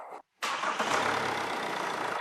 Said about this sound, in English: Please start the vehicle.